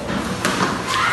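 A cricket bat strikes the ball at a school sports gala, a sharp knock at a distance that rises over a constant wash of outdoor crowd noise, with a second fainter knock shortly after.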